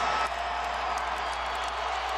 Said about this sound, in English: Crowd is going nuts